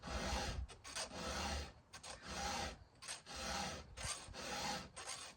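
A hand file rasps in repeated strokes along a chainsaw bar, about eight close, scraping passes in an even back-and-forth rhythm with short gaps between them.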